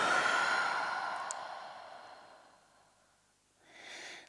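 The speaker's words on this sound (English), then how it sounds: "take a deep breath" During a slow yoga stretch, a long, audible, close exhale trails off gradually into quiet, followed by a short, soft intake of breath at the end, with no words spoken.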